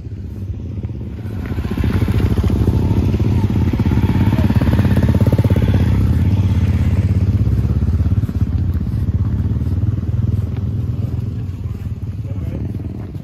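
Motorcycle engines rumble at the Dragon Rally, a loud, close, continuous low throb like a bike running nearby, with voices faintly mixed in.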